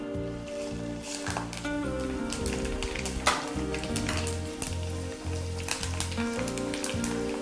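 Fenugreek, cumin, mustard seeds, garlic, dried red chilies and curry leaves sizzle in hot oil as a tempering for a red chili ginger pachadi. A steady, crackling hiss runs throughout, with music playing underneath.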